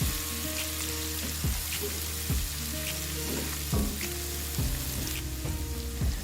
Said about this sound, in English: Let's fry for about 2 minutes until the garlic turns fragrant.